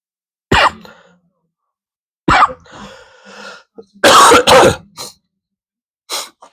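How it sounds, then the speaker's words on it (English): A person coughing in a series of sharp bursts with a throat clearing among them: several loud, close coughs separated by pauses, some in quick pairs, with silence between. "I started coughing"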